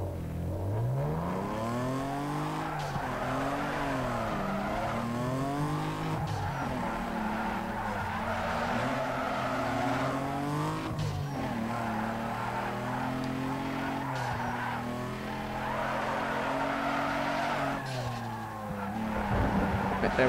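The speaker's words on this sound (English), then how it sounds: "I haven't done one of these drift events in ages, actually." Tires squeal as a car drifts through a race in Need For Speed Underground 2, the engine droning and wailing in rising and falling sweeps, loud and continuous for the whole stretch with a brief rev at the end.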